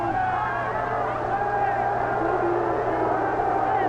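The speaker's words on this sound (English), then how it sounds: "Crowd makes so much noise" Steady, dense crowd roar fills a wrestling arena during a tag-team match, a continuous loud hubbub of many voices with no clear individual speech standing out.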